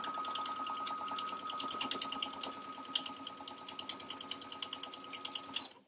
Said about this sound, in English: Then I'm just going to do a straight stitch right down here.